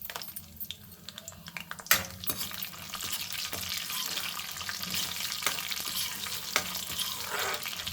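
Cumin, mustard seeds, four garlic cloves and dry red chillies sizzle in hot oil for a spinach dal tempering, a steady close crackle with occasional spoon clinks and stirring scrapes, and no voices.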